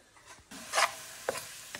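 Garlic in butter in a pan gives a soft steady sizzle, broken by a few brief scraping stirs of a utensil close up.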